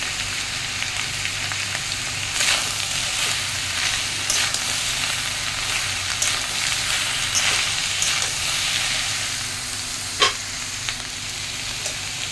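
Ginger, garlic, turmeric and chili sizzling in hot oil in a pan for a Bengali banana-stem dish, a steady close frying hiss broken by occasional sharper crackles and stirring scrapes, with no talking.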